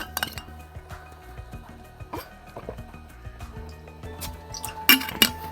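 Glass clinks and water drips while someone gets a drink late at night, with several scattered light chinks and a couple of sharper clinks near the end, close and fairly quiet.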